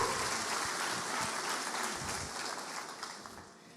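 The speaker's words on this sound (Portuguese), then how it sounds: "Vamos aplaudi-lo." A church congregation applauds at a Christmas service, a steady wash of clapping that holds evenly and fades slightly toward the end, with no voices over it.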